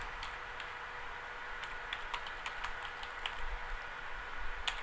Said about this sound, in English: I'm using the left arrow on my keyboard to just tab across.